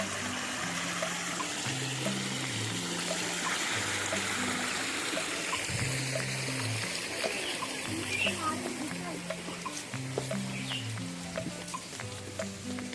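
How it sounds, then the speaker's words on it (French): A small waterfall trickles in the Pamplemousse botanical garden on Mauritius, a steady hissing splash of running water, while people talk over it for most of the stretch. "Une mini cascade."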